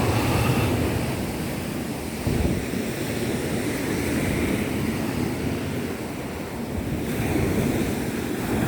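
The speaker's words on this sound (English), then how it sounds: "Do you want to dip your feet in the sea, Otis?" Sea waves surge and wash along the shore at a harbour on a seaside esplanade, with steady wind buffeting the microphone; the roar is continuous and close, with no talk.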